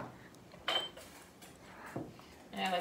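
Glass jars being set out for cran-raspberry jam, with a few separate clinks and knocks of glass and metal on a kitchen counter, spaced apart over a quiet background.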